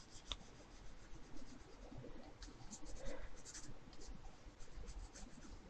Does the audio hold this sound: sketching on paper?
yes